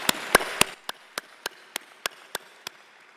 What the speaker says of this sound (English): that's loud clapping in the mic